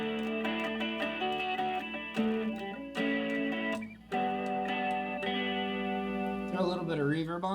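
Electric guitar played through a Julia chorus pedal, ringing chords and picked notes with a shimmering, wavering tone, sustained and close, ending in a bending warble.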